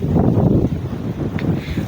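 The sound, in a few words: wind blowing into microphone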